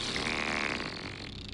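A long, sputtering fart, loud and raspy, buzzing on for well over a second with a wet, fluttering texture.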